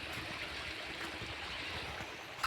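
Irrigation water runs through wheat fields on a hillside farm in Uttarakhand, a continuous broadband rushing and gurgling flow, steady and fairly close, with no voices.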